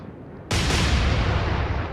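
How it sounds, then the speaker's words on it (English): Warship front turrets firing in the Atlantic Fleet naval video game, one sudden loud booming blast that rolls on as a dense, sustained rumble, heard alone with no voices. "we are only shooting with the front turrets"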